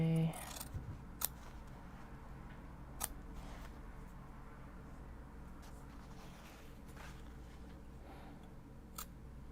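Scissors trim fabric for sewing a small sling bag with a few crisp, spaced snips close by, over a low steady background hum.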